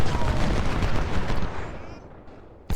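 Massed musket and cannon fire rumbles from a Union supply raid battle in Ultimate General: Civil War, a dense, loud roar of volleys that fades away before one sharp final crack.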